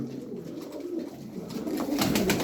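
Low, rolling coos from pigeons kept in a loft rise and fall in a continuous murmur, becoming slightly louder toward the end.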